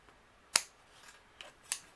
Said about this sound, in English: then I'm going to use my scissors, and anything overhanging we're going to trim off